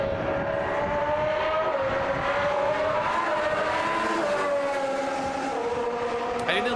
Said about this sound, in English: These engines definitely sound like you can hear them from far away, which is important.